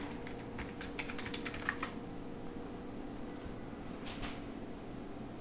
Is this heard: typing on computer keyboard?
yes